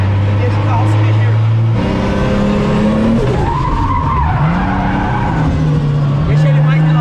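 A 550-horsepower car drifts with engine revving up and down through gear changes while tires squeal and skid continuously, loud and close, with people talking over it.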